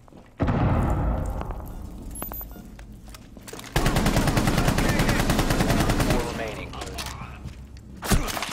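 Rapid bursts of automatic gunfire in the Rainbow Six tactical shooter, loud and close, with a sustained volley of rattling shots, a short pause, then a final sharp burst.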